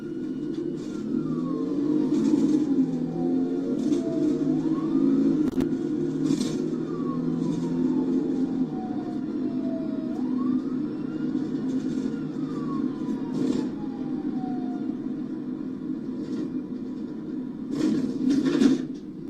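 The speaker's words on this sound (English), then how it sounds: "You'll hear the audio turn on here when he turns his lights and sirens on." A police car siren wails in long, sweeping rises and falls as it switches on and runs for several cycles over a steady low engine rumble and background noise.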